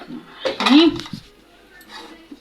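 A metal pot of rice set down on a home kitchen stove, giving a brief clanking scrape of cookware near the start, then quieter handling clinks, with no talk.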